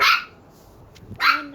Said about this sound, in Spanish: Miren, no para de ladrar.